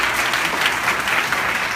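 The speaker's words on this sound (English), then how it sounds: "Give them all a round of applause," Steady, dense applause from an audience at a women's political event in Bethesda, a continuous wash of many hands clapping with no speech over it.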